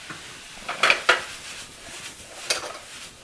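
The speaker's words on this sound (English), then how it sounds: "Toss those around, get them all coated." Cut apples tossed and stirred in a pot for applesauce, with a few sharp clinks and scrapes of a utensil against the pot and soft shuffling between them, close and alone.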